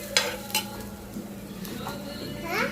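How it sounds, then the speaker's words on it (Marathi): Whole garam masala spices and cumin roasting in a hot pan give a soft, steady sizzle with occasional scraping stirs and light clinks from a utensil, fairly close and moderate in volume. "सगळं टाकल्यानंतर जिरं टाकायचं थोडं आणि ते सगळं एकदम काळसर होईपर्यंत त्याला गरम करत राहायचं."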